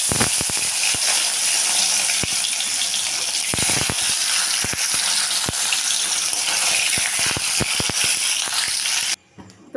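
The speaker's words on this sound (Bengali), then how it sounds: "তো পনিরটাকে আমি ভেজে তুলে নিয়েছি" Paneer fries in hot white oil with a dense, steady hiss and scattered sharp crackling pops, then cuts off abruptly near the end.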